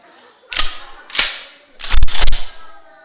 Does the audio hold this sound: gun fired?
yes